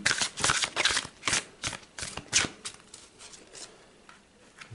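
Oracle cards are shuffled briskly in a quick series of crisp riffling bursts, then slower soft slaps as they are set down for a cross spread, close and clear with no talking.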